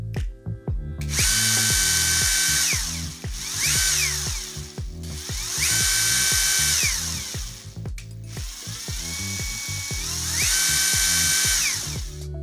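A WORX 12V brushless cordless drill driver with a variable-speed trigger whirs up and down in three long runs, its motor pitch rising and falling smoothly as the trigger is eased in and out, loud and close with no talking.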